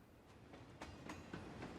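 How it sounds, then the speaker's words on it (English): A train arrives in the video game Echo, heard as a low rumbling rush with a few rhythmic clacks of wheels over rail joints, fairly faint and steady, with no voices. "my ears are filled with the sound of the arriving train"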